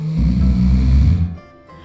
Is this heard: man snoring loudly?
yes